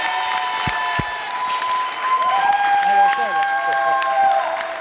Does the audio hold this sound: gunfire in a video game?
no